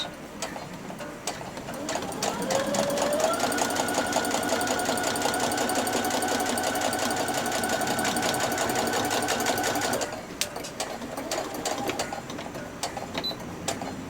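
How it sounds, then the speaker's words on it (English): A sewing machine stitches slowly around the edge of a pocket at a steady, even whir with a fine rapid needle tick, close and continuous, then stops, leaving a few light clicks and handling noises. "Coming to the end again, so just stitching slowly."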